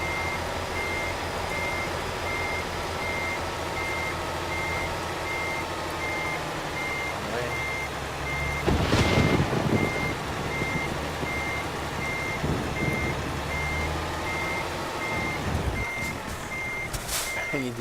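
A truck's reversing alarm beeps steadily and repeatedly while backing up in Euro Truck Simulator 2, over a constant engine drone, with a few louder bursts of mechanical noise partway through.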